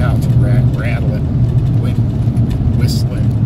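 A truck interior while driving, with steady low road and engine rumble, rattling throughout and faint high whistling tones near the end.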